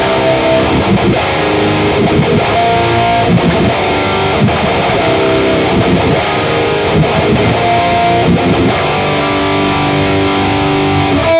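A heavily distorted electric guitar played through a GE250 amp modeler plays continuously, thick and loud, with sustained crunchy chords and no voices.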